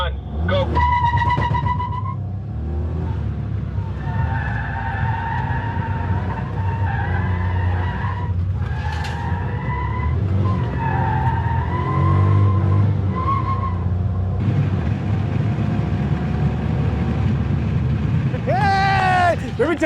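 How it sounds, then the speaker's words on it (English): Squealing tires from a car on a timed lap at a South African Star in a Reasonably Priced Car event, with sustained wailing tones over steady engine roar and background voices throughout. "Tires are squealing, but you're not going that fast."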